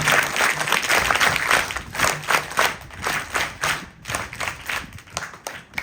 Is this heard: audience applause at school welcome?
yes